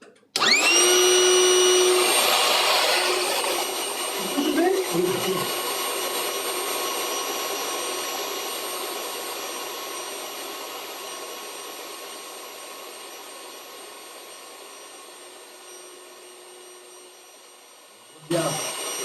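Wind tunnel air blower running, a loud steady whooshing roar with a tonal hum that slowly fades as it winds down, with brief speech near the start and end.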